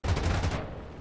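Aircraft guns firing in War Thunder, a dense rapid burst of booming shots for about half a second, then a fading tail.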